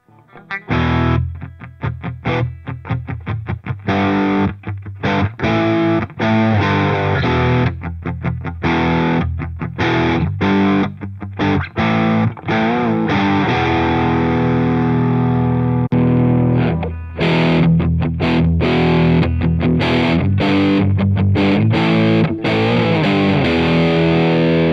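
Electric guitar strumming open chords through the Amplitube 5 CS distortion plugin, a loud, steady, saturated wash of repeated chord hits with a short pause partway, played alone without talk.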